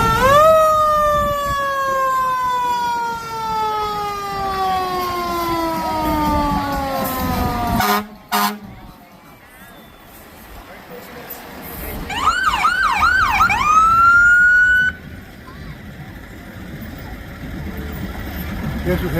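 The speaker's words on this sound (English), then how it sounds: "Next we have a well-lit up fire truck." A brightly lit fire truck in a Christmas lights parade in Clovis, New Mexico sounds its siren loudly with a long descending wail, then after a brief pause gives a few rapid yelping whoops over a running engine and street noise.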